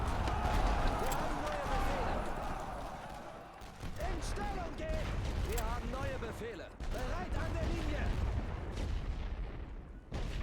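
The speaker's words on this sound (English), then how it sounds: "They're taking rifle and machine gun fire." Rifle and machine gun fire rattles through a World War I battle in The Great War: Western Front, a steady dense crackle of distant shots beneath busy game sound effects and talking voices throughout.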